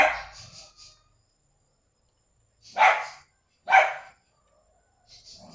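Dogs bark while waiting for their dinner at a rural home, giving two sharp, close barks a second apart after a few faint yips, with quiet gaps between them.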